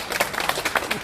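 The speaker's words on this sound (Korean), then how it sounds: "여러분 박수 한번 보내주세요." Supporters applauding outdoors at a press conference in front of a politician's home in Bongcheon-dong, Seoul; a short burst of uneven, close clapping from a small crowd, with individual claps distinct.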